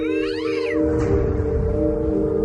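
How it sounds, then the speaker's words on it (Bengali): A cat lets out a loud, strained, unnatural meow up close, a wavering yowl that fades into a low rumbling drone, with no speech. "বেড়ালটা এগিয়ে এসে আঁশে মুখ দিয়েই বিকট স্বরে ম্যাও করে উঠল।"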